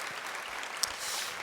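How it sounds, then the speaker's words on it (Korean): Applause from a church congregation during a Sunday worship service, a soft, steady patter of many hands that runs throughout, with one brief sharper clap. "격려 박수 앞으로 더 크게 쓰임 받도록 격려 박수해 주시길 바랍니다."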